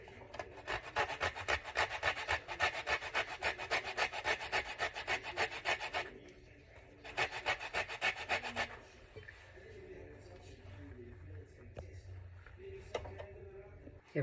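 Orange zest grated by hand in a home kitchen, a rapid rhythmic rasping of strokes in bursts, close and fairly loud, pausing and then fading to quieter rubbing.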